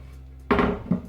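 Pumpkin rice ingredients stirred in a cooking pot, giving two close clanks of a utensil against the pot, loud and brief, with a softer scrape between them.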